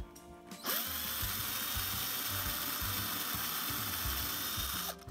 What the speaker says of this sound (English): You wanna pull the bit out every now and then